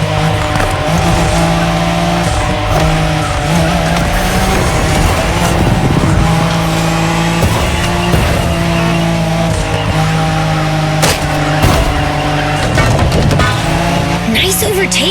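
A car drifting in The Crew Motorfest: a loud, sustained engine roar with long squealing tire slides throughout, dense and continuous, with a voice talking over the noise.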